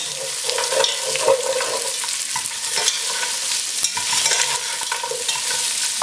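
Lamb sizzling and frying in a pan as it's stirred, a steady close crackle with scraping stir sounds throughout and no voices.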